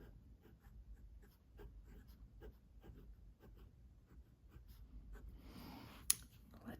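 A Platinum 3776 fountain pen with a medium 14K gold nib scratching out short strokes on paper, very faint and close, a soft rhythmic scritch of repeated lines, with a brief sharp click near the end.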